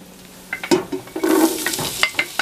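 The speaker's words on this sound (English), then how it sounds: "Now, at this point, we're going to throw in the onion." A whole white onion hitting hot garlic-infused oil for a zuppa toscana, heard as a close burst of sizzling broken up by quick scraping and clattering from stirring.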